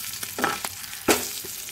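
Curry frying in a pan, with short crackling sizzle bursts and a couple of stirring scrapes over a few seconds, close and without talk.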